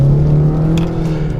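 A Ford Fusion EcoBoost engine from a 2013 Ford Fusion SE drones steadily under acceleration with a slightly coarse hum, loud and close, with no voices.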